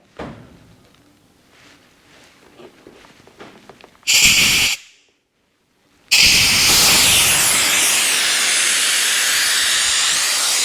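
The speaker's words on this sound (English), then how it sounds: "push that valve in and it should just deflate" Inflatable stand-up paddle board valve pushed in to deflate: a short, loud blast of escaping air, a brief pause, then a sustained strong hiss rushing out continuously up close.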